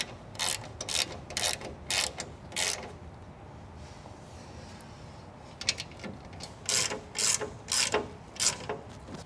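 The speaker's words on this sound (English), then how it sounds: "we're going to go ahead and tighten all four bolts using our Allen wrench and our socket wrench." A socket wrench tightens the bolts on a van's rear step, producing close, crisp runs of ratcheting clicks in several bursts with a quiet pause midway.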